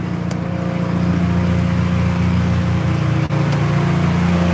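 Jeep engine running in gear, a loud, steady low drone with a sustained hum and little change in pitch, close by with no talking.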